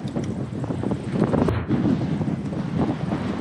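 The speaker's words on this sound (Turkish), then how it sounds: "Şu an rüzgar 30-35 km hızında falan esiyor yani." Strong headwind of roughly 30 to 50 km/h buffeting the microphone of a touring cyclist pedalling uphill on the road near Kıyıköy, a steady loud rushing roar with gusty surges and no talk.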